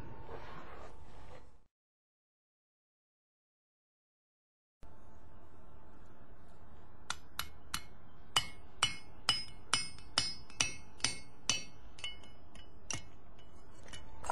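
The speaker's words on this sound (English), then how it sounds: "we're going to punch the hole in that oval that we just made" A blacksmith hammers a punch through hot iron at a historic smithy. After a short burst of noise and a pause of silence, about a dozen sharp, ringing metallic blows land in a steady rhythm, close and loud.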